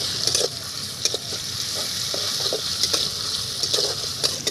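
Chopped tomato and fried onion sizzle steadily in a pan for chicken kosha, with a broad hiss and repeated scraping stirs at an irregular rhythm, close and with no voices.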